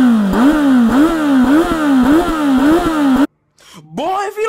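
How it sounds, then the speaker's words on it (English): A Kawasaki Z900 motorcycle with an SC Project slip-on exhaust revs repeatedly in quick rising bursts, loud and close, then cuts out briefly before one more rev. "most of that noise was actually coming from the engine and not the exhaust"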